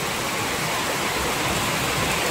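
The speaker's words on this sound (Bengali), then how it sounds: "বৃষ্টিটা দেখেছো একটু," Steady rain pours down, a dense, even hiss of falling water holding constant throughout before cutting off abruptly.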